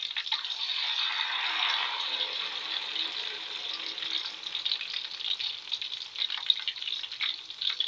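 Tofu batter fries steadily in a wok, a continuous bright crackling sizzle close by that runs unbroken from start to finish with no voices.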